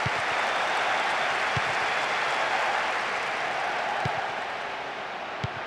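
A stadium crowd in the PES 2010 football video game on PS2 applauds and roars in a broad, sustained wash of noise that eases slightly toward the end, with a few faint thumps.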